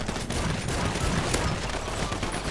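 Dense gunfire rattles continuously in GTA V on a FiveM server, with rapid overlapping shots and bursts filling the whole moment at close range, no voices.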